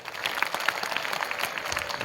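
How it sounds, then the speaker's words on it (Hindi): A crowd at a World Tribal Day gathering claps to honour tribal community workers, a short, steady burst of moderately distant applause with no speech over it. "उन सबको एक बार तालियों से अभिनंदन करिए दोस्तों।"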